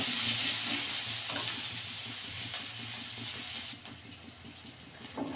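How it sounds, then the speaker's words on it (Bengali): Garlic and onion frying in a pan for a village-style papaya and egg curry, a steady bright hiss with faint crackles that drops to a softer sizzle partway through, no talking. "রসুন পেঁয়াজটা ভাজা ভাজা করে দেবো।"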